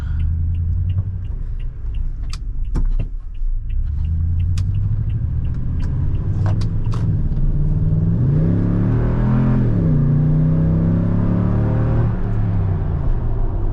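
A Toyota Tundra TRD Pro's 5.7-litre V8 idles with a deep burbling TRD exhaust, then revs up and down several times in loud, rising and falling roars.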